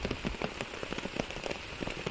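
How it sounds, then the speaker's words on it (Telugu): Heavy rain pattering densely and continuously on a surface, loud and close, with no talking. "వర్షం అయితే ఏ మాత్రం తగ్గట్లేదండి"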